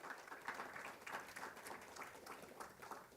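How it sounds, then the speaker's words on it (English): Applause for the staff at a Change InSight community press conference, a faint, distant patter of clapping from a small crowd that holds steady throughout. "Give them a big round of applause."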